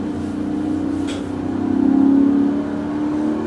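A BMW E39 M5 engine pulls hard from inside the car, its steady rising drone swelling louder toward the middle before easing slightly, with no talk.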